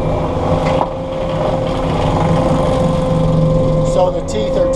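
Stump grinder drum fitted with a Viking Sword blade and carbide cutter teeth, running near and loud at a steady high drone as it is lowered slowly into a stump, held up to RPM.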